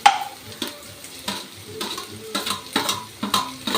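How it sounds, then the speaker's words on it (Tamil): Carrots sauté in a pan for kuzhi paniyaram batter, with a soft sizzle broken by repeated scraping stirs of a spoon against the pan, close and fairly loud, with no talk. "இப்போ அந்த கேரட்டை போட்டு நல்லா வதக்கி விட்டுருவோம்."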